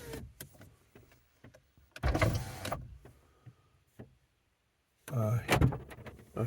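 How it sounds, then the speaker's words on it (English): An electric power window on a parked car whirs as it rolls partway down, in two mechanical bursts with clicks and handling noises between them, close inside the cabin in a quiet spot. "Let me roll the window down just a little bit"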